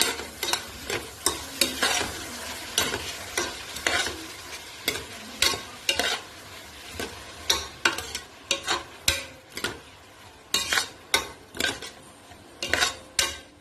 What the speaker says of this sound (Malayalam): കുറച്ച് ഉപ്പ് കൂടിയിട്ട് ഇളക്കി കൊടുക്കാം.